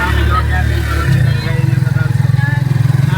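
A motorcycle engine chugs and pulses close by, its rhythm turning bumpy and uneven as it rolls over a rocky road in Coron, with voices talking over it.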